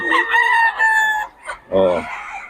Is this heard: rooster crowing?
yes